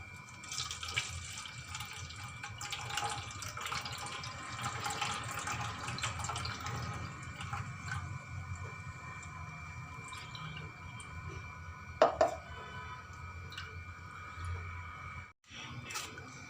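Blended lemon sharbat is poured through a strainer, giving a steady close trickle of liquid that runs on for many seconds, with a brief clatter near the end.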